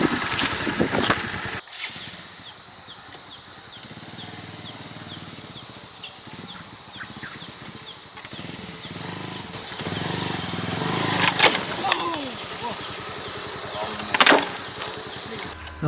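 A Bajaj Avenger motorcycle riding off-road and jumping a hump, its engine droning and revving unevenly under wind buffeting and rattling, with a couple of sharp surges near the end.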